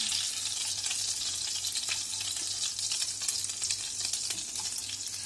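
Chicken mince cutlets sizzle and fry steadily in a pan, a continuous bright crackle with a low hum beneath, close and even throughout, no voices.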